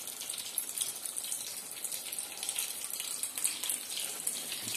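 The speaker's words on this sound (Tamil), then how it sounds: "இப்போது இந்த பக்கம் மசாலா வந்து கருகாமல் இருக்கிறதுக்கும் நம்மளுக்கு தேவையான அளவு தண்ணி சேர்த்துக்கலாம்" Water poured into rajma masala cooking in a pan with unsalted butter, a steady close hissing splash that runs evenly throughout with no talking.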